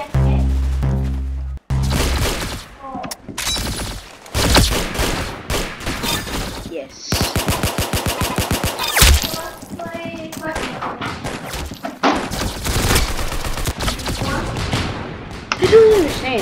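Rocket blasts and rapid gunfire in an arena shooter game, a dense run of loud impacts and bursts with heavy thumps, speech mixed over the action.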